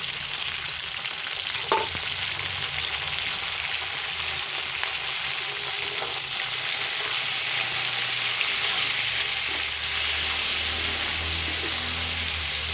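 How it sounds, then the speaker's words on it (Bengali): Flat beans and potatoes fry in a pan with a loud, steady sizzle and crackle, a continuous dense hiss lasting throughout with no talking. "দেখেন এর সিম আর আলু কিন্তু ভাজা হয়ে গেছে"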